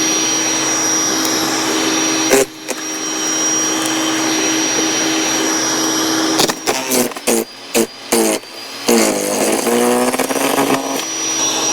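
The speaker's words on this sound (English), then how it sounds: "I feed some branches through the machine." An off-grid electric wood chipper runs with a loud, steady whine, then chews through branches in a series of abrupt choppy bursts and grinding surges before settling back.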